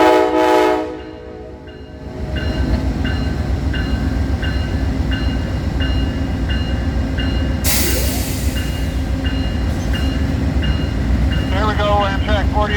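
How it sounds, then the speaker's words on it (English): Amtrak 48, a passenger train, pulls out of Cleveland on a Norfolk Southern line, with a loud steady rumble of cars and wheels, a horn blast near the start and a squeal later on, while radio chatter and voices are heard underneath. "There we go, Amtrak 48 departing Cleveland on the clear 181"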